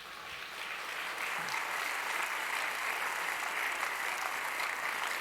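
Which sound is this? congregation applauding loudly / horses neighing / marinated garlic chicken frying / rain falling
congregation applauding loudly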